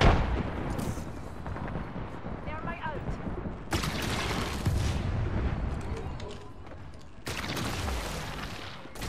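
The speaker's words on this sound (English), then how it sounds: "Casting a frag." A frag grenade explodes in Apex Legends, with several loud booming blasts and crackling debris in a chaotic firefight, and brief voices mixed in.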